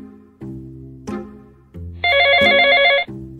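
A phone rings while a call is being placed: a few electronic ringback tones step up in pitch, then a brighter trilling ring pattern, with no talking.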